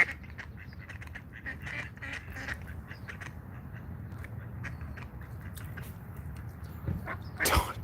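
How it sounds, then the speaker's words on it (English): Ducks squabbling and quacking at an outdoor protest scene, a busy jumble of calls over steady crowd and background noise, with a louder burst near the end. "Oh, we got a whole nother duck fight happening over here."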